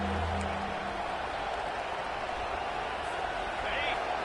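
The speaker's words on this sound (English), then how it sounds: "These fans are going absolutely nuts." Football stadium crowd roaring loudly on a third-down defensive stand, a steady, dense wall of cheering noise throughout, with a commentator's voice heard briefly at the start.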